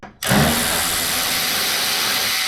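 Power tool whirring steadily after a brief quiet start, loosening a 10 mm fender bolt on a Nissan 370Z, close and loud with no talking.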